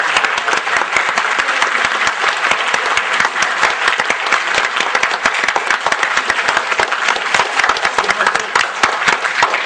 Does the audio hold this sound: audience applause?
yes